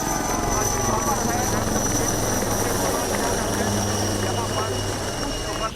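Military fighter jets of the Air Force roar overhead in a flypast, a loud, continuous, dense engine rumble filling the whole clip, with a steady aircraft drone and no pauses.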